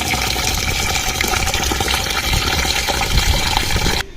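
Tap water gushes steadily into a pot of rice being rinsed for chicken biryani, a loud continuous splashing pour lasting about four seconds before it cuts off.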